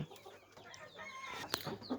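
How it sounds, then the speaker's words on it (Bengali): American Brahma chickens cluck and murmur close by on a farm in a short, busy stretch, with one sharper squawk near the end. "এই মুরগিটি হচ্ছে আমার খামারের সবচেয়ে বড় মুরগি দেখতে পাচ্ছেন এখানে রয়েছে আমেরিকান ব্রাহ্মা"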